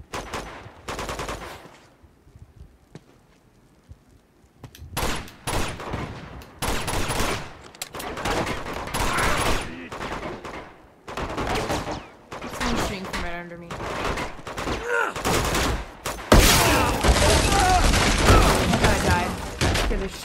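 Enemy gunfire in the PlayStation action game Uncharted 2: Among Thieves, with repeated bursts of automatic shots and booms in a chaotic firefight that grows louder and denser toward the end, mixed with game dialogue.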